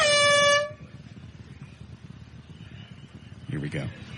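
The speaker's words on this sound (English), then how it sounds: "I'm now about to hit the air horn." A loud air horn blasts for about half a second at the start, then cuts off, leaving low background rumble and a brief later voice.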